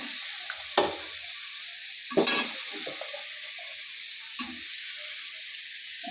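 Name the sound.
potatoes added to frying pigeon meat curry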